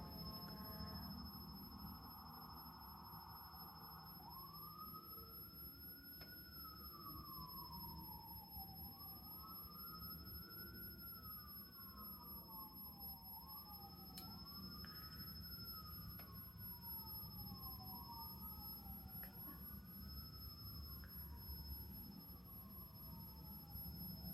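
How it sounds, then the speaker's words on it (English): A wailing siren sweeps up and down repeatedly over a steady rumble of traffic, fairly distant and continuous throughout. "You hear those sirens?"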